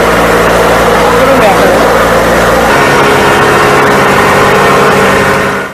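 A tractor-mounted flour mill grinds grain to flour, its engine droning loud and steady with a humming tone that shifts partway through, as a voice talks over the machinery.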